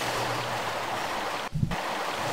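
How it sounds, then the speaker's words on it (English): Water draining in Tomb Raider (1996), a continuous rushing wash like a stream or waterfall, with a brief dip and a low thump partway through before the flow carries on. "Lowered the water level."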